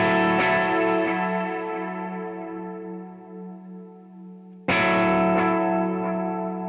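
Electric guitar played through a Kemper Profiler chorus preset: a sustained, shimmering chord rings out and slowly decays, then a second strummed chord strikes loudly and rings on.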